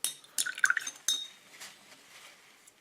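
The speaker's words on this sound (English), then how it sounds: "As you can see, I like to water the brush quite often." A paintbrush is swished and tapped against a glass of water while painting a miniature, giving a few quick bright clinks and a light watery slosh, close and clear, then fading into quiet.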